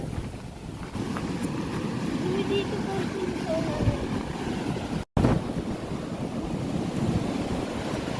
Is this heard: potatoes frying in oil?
no